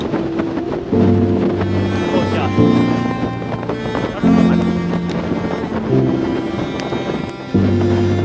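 Powerful wind and rain sweep across an open, unsheltered mountain peak, a loud roaring rumble that surges in gusts from start to finish, heavy buffeting on the microphone throughout.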